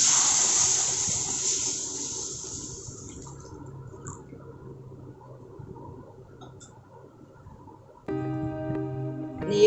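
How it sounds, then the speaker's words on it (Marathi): Milk is poured into semolina that has been roasted in ghee for kheer, making a soft hissing sizzle that fades over several seconds, followed by a brief tonal hum near the end. "1 वाटीभर आपण दूध घालूया."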